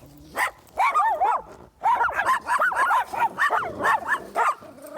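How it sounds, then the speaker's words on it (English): Several dogs bark and yip in quick, excited bursts close by, with whimpering between barks; little else is heard. "We should probably get away from these dogs, though."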